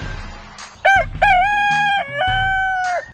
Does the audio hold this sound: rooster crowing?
yes